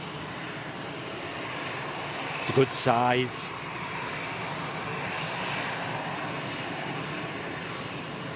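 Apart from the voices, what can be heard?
Airbus A350 aircraft engines at Manchester Airport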